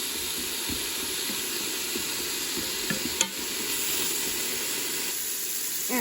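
Mushrooms sauté in a pan, giving an even, continuous hiss of frying that stays close and steady throughout, with a few faint stirring clicks and one sharper knock partway through.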